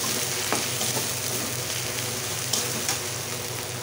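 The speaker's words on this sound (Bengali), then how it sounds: "এখন টমেটো কুচি দিয়ে দেব।" Chopped tomatoes frying in a pan with onion, garlic and ginger paste for a Bengali prawn pulao, giving a steady close sizzle with a few soft clicks of stirring and no voices.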